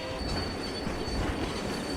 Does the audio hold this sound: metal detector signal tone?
no